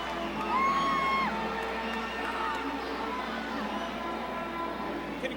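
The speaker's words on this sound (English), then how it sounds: "The crowd is going wild." A crowd at a live fight-night event roars and whoops continuously, with shouts rising above the wall of noise while an announcer talks over it.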